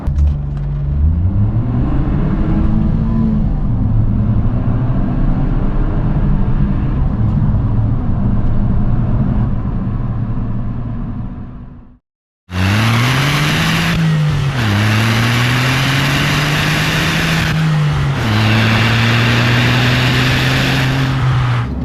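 A remapped Smart 451 Brabus city car revs hard as it accelerates through the gears, its loud engine note climbing in pitch, dropping briefly at a shift, then rising again in a steady droning pull.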